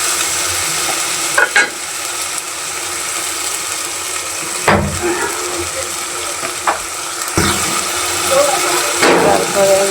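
Ginger-garlic paste frying in oil over lowered heat, a steady close sizzle broken by several sharp scrapes and clacks of a spatula against the pan.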